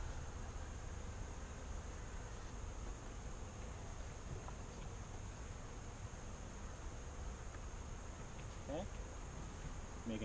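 Honey bees buzzing around an open beehive during a beginner hive inspection, a faint steady hum of many insects spread through the air, with light handling sounds of comb and frames.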